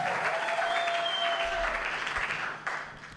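Congregation applauding and cheering for God during an evangelical church service in Baden, Switzerland: dense, sustained clapping from a crowd filling the room, steady and then tapering slightly toward the end, with no speech.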